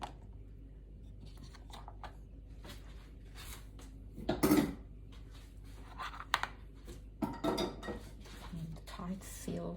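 Lid pressed and snapped tight onto a plastic container of injera batter, a few clattering knocks and clicks close by in a quiet kitchen, with one louder burst midway.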